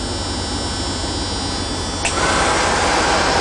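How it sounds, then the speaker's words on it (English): Air conditioning blowing on high inside a Dodge vehicle, a steady broadband whoosh of fan air with a faint whine, swelling slightly louder partway through, no talking. "You can hear it in the back, that's the air conditioning."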